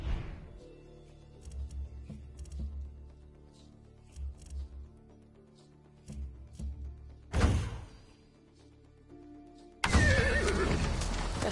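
A horse whinnies loudly in a shrill burst in the video game Far Cry 6, with scattered hoof clatter and low rumbling before it, then a noisy rush of sound at the end.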